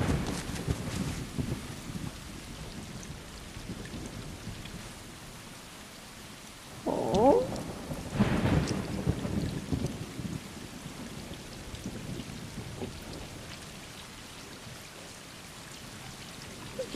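Rain and thunderstorm on a dark, stormy night in the video game Stray: steady hissing rainfall throughout with a couple of rumbling thunder swells in the middle, no voices.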